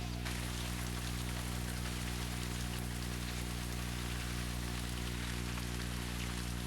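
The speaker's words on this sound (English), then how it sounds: "Heavy rainfall brings a halt to the digging." Heavy rainfall at an archaeological dig pours down in a dense, steady roar of drops that fills the scene loudly and continuously, with a low hum underneath.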